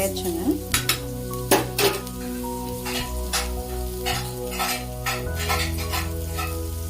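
Ridge gourd frying in a pan, with repeated metallic stirring scrapes and clinks over a continuous sizzle. The sounds are close and busy, with irregular strokes and a low steady hum underneath, and there is no speech.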